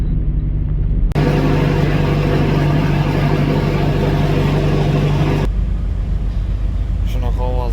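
A refrigerated truck's reefer unit runs with a loud, steady droning hum close by, then cuts out abruptly, leaving a lower engine rumble.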